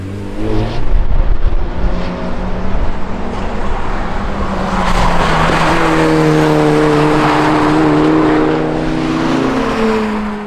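Turbocharged Mazda MX-5 lapping a race track after suspension shock changes, engine droning loudly with rising and falling revs through gear changes and brief tire squeal, continuous with no talking.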